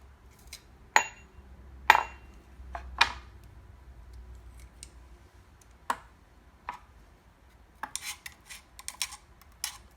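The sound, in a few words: knife scraping garlic out of a garlic press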